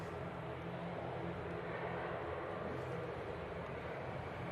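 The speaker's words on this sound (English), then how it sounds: "And we've got the Finnair Embraer." A Finnair Embraer jet airliner at Manchester Airport, heard as a steady, broad engine roar at a distance that holds at an even level throughout.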